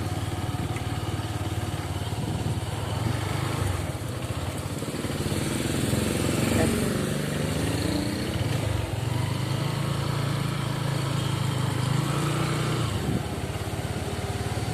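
A motorcycle engine drones steadily while riding through a small town street, a constant buzzing hum with wind noise that stays close and even throughout, with no talking.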